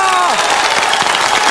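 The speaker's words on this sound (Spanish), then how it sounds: "¡Un aplauso!" A television studio audience breaks into loud, dense applause with some cheering, as a tone fades out at the start.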